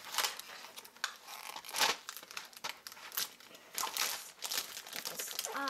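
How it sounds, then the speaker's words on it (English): Packing tape is peeled and pulled off the packaging of a fashion designer sketch book set, making close, irregular crinkling and tearing sounds with sharp ripping bursts and rustling at moderate volume. "Get this off. So much tape."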